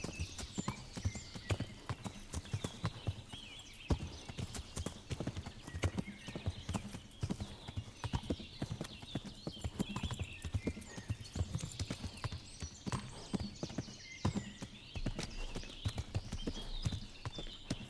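Horse hooves clip-clop steadily at a ride in the medieval game Kingdom Come: Deliverance, close and continuous, with an occasional faint whinny over a low background of game ambience.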